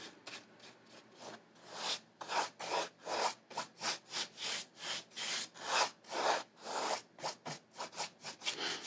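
A brush moves back and forth across canvas while painting a starfish, soft rhythmic scrubbing strokes repeating quickly and evenly, close and fairly quiet.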